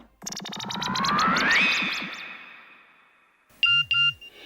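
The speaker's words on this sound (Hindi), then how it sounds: "तेरा फोन बज रहा है कब से" A phone ringtone plays a rising electronic melody of quick repeated tones, fades, then two sharp electronic beeps follow.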